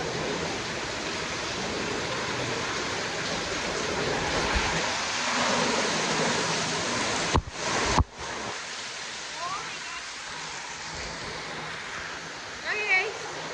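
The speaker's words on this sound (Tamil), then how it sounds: "மழையை பார்த்தீங்களா?" A steady, dense hiss of heavy cyclone rain pours down without a break, with a couple of sharp knocks near the middle and faint voice-like sounds under the downpour.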